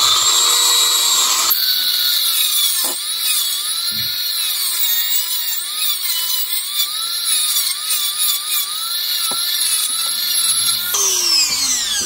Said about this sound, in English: I'm just gonna use my Dremel, just go in them and do it like that